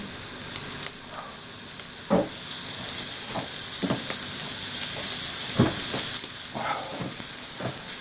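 Bacon sizzles in a hot, lightly smoking pan, a steady hiss broken by sharp pops and crackles every second or so, with no voices.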